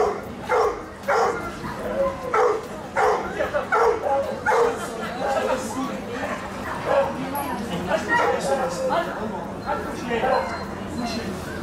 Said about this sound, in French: une démonstration de chiens policiers a eu lieu avec le concours de Education for Dogs